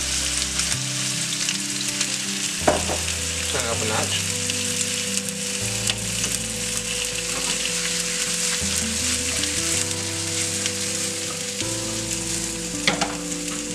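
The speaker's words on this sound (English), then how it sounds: "Nice little sizzle to that as well." Peppers and onions sizzle steadily in a hot pan, a constant loud crackling hiss with occasional clinks of a utensil; a voice speaks briefly.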